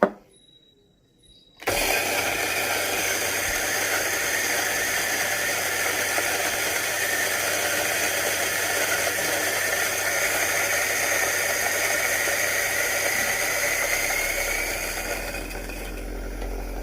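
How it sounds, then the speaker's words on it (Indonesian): A coffee grinder grinding Malabar Honey coffee beans: after a short near-silent pause it starts abruptly into a loud, steady, close whirring grind that holds evenly until it winds down at the very end. "Oke, kita akan giling bersama."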